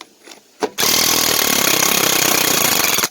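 A Craftsman impact power tool busts bolts off the rear-end springs of a car with a sudden loud, rapid hammering rattle that runs continuously for over two seconds after a couple of short bursts, close and harsh.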